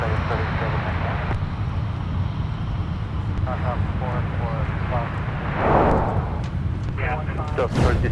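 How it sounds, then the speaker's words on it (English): An airliner arriving from Las Vegas touches down at Minneapolis–St. Paul airport, a distant, steady roar of engines and rushing air with a swelling rumble near the end, while tower radio chatter and a nearby voice talk over it. "let's take another look at our arrival from Las Vegas, just touching down."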